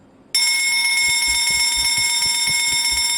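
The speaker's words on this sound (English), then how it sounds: "Jun, I'm gonna ring the bell" Bell rung in the game Escape the Backrooms, one sudden bright sustained ring with steady ringing overtones and a faint fast pulsing beneath, loud and close after a brief quiet lead-in.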